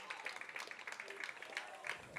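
LaCrosse fans on the near sideline of a Logan-Palco vs LaCrosse high school game clap steadily, a scattered, fairly faint patter of many hands that stays even across the moment, with crowd murmur and voices mixed underneath.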